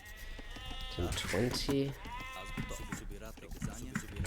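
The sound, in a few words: sheep bleating in a video game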